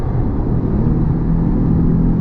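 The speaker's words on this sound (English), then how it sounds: "the engine makes noise, you can hear the rev" A Porsche Panamera 3.6 engine heard from inside the car while driving, a steady low rumbling drone with a faint rising whir, continuous and fairly loud with no talk.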